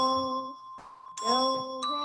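A set of five tuned bells in a school music class rings a simple warm-up tune, clear sustained tones struck one after another with bright ringing overtones and short pauses between notes.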